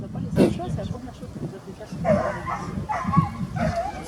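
A Belgian Malinois barks and growls in rough bursts amid a noisy outdoor training field, with people talking nearby throughout.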